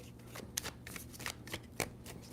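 Tarot cards being shuffled up close in quick, riffling bursts, with several sharp snaps, quiet and without voices.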